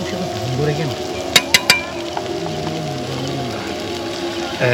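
Browned onion paste frying with ginger garlic paste in a pan for a Bangladeshi tilapia bhuna: a continuous low sizzle with stirring, three sharp utensil clinks close together partway through, and soft background murmur.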